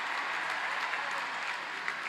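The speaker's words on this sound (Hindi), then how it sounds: "उससे 100 गुना तालियां बजनी चाहिए" Dense audience applause for an Indian hockey player at a felicitation event, continuous and even clapping throughout a short stretch.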